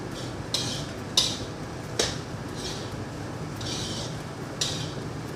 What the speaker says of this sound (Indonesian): Oke, diaduk-aduk terus sampai kecap asin dan nasi dan juga sayurannya itu merata ya